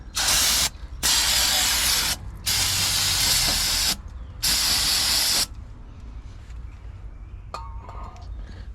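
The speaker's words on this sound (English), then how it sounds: "I like to spray all this down with some brake clean." Brake cleaner sprayed from an aerosol can onto a car brake rotor and hub. Four loud, close hissing bursts of one to two seconds each are separated by short pauses, followed by quiet workshop ambience with a faint clink.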